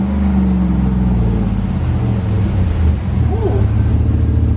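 A 2011 Chevrolet Silverado with a Stainless Works cat-back exhaust, idling and revving lightly with a deep steady rumble, close by, while a voice speaks briefly over it.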